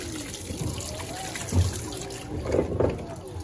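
Water trickles and pours into the drum of an Electrolux Turbo Acqua Jet 15.2 kg direct-drive LTA15 washing machine as it corrects its fill level, a steady close-up gurgle with soft splashing and a brief voice under it.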